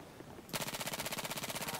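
Sustained automatic weapon fire from an in-game gun in Battlefield 4 multiplayer, a rapid, steady burst of loud shots starting abruptly after a quiet moment and continuing without a break.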